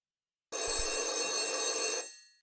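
A telephone rings once in a single bright, sustained electronic trill lasting about a second and a half, loud and close, then fades out into silence with no talk over it.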